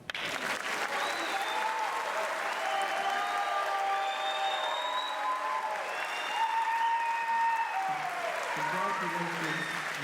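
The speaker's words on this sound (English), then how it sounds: "You can applaud." A large audience at a fall university commencement ceremony in Hawaii breaks into sustained applause with scattered cheers and whoops, a dense clapping roar filling the hall for the full stretch, with some voices mixed in.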